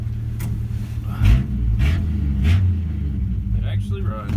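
A 1964 Dodge D100 pickup truck engine runs in a steady low rumble, close and continuous, with a couple of brief surges in loudness, while people talk over it.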